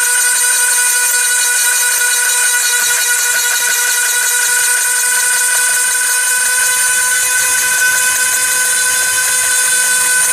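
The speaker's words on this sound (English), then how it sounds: "This great bit for cleaning up, smoothing everything over." Power carving bit smoothing cottonwood bark, a loud, continuous high-pitched whine from a rotary tool held steady for the whole stretch, with no voices.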